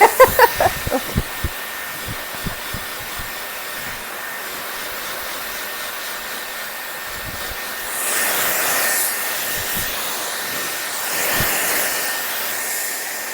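A Dyson Airwrap hair styler blows a steady, loud rush of air as it dries wet hair, a continuous whooshing that swells at times, preceded by a few soft knocks at the start.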